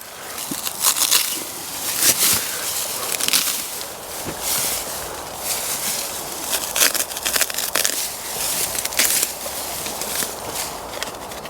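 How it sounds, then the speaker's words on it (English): Grass being cut by hand at a campsite beside a newly pitched tent, a series of close, crisp rustling and snipping crunches in uneven bursts against an outdoor background, with no talk. "Just going to cut some of this grass."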